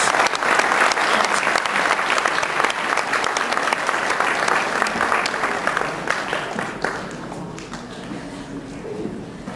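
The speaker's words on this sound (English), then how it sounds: "let's give them a round of applause" A general assembly audience applauds, loud dense clapping from a large crowd that gradually thins and fades, with a few voices murmuring beneath it toward the end.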